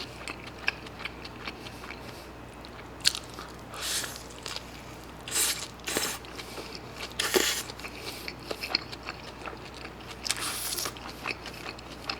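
Someone bites into and chews an Isaac Toast sandwich up close, with scattered crisp crunches and soft chewing and mouth sounds, some bites sharper and louder than others, and no talking.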